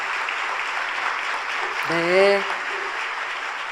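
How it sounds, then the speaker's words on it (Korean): A congregation at a Christmas church service gives a broad, even wash of applause to welcome visiting missionaries, and a voice briefly speaks over it. "따뜻한 박수로 환영해 주시기 바랍니다."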